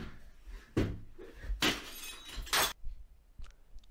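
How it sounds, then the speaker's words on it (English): A window hit by a ball during a makeshift table tennis game shatters in several loud bursts of breaking glass, with faint tinkling fragments trailing off afterward. "Who thought the glass would shatter?"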